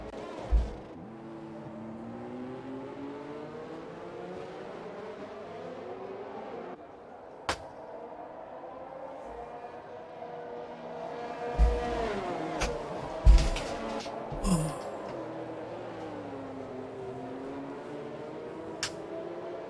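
Race cars in the F1 2021 video game at the Singapore circuit, engines whining and shifting pitch steadily behind the safety car, with a few sharp clicks and bumps along the way.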